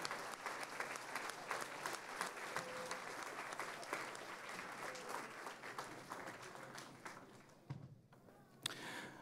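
Round of applause at a school board meeting honoring Riverside and Berta Cavaza students, steady crowd clapping that gradually thins out, with a few scattered final claps near the end.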